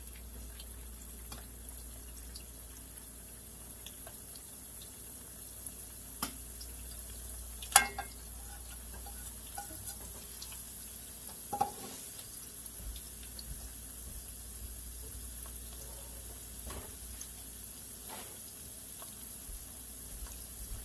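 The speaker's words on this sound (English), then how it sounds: "I'm going to put these fries back down in the fry." French fries fry in hot oil, giving a faint, steady sizzle with a few sharp clicks and pops, without speech.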